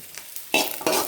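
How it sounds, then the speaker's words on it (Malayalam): Hot mustard-seed tempering is poured into beetroot pachadi, setting off two close, loud bursts of sizzling and crackling after a quiet moment of stirring. "പച്ചടിയിലേക്ക് കടുക് വറുത്തൊഴിച്ചു"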